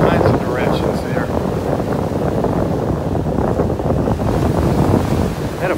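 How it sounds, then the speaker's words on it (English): Strong wind roars across a Naples, Florida beach and buffets the microphone, a loud steady rush with surf churning beneath it. "Wind is blowing this gimbal all kinds of directions there."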